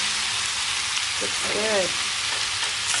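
Chicken and pork adobo with pineapple simmering in a pan, a steady bubbling sizzle running throughout at moderate loudness, with a brief spoken remark over it.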